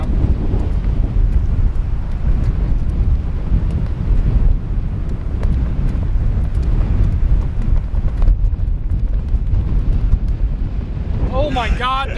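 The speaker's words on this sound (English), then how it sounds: "this wind is brutal" Strong, steady wind buffets the microphone on the St. Andrews golf course, a loud continuous rumble throughout with brief speech near the end.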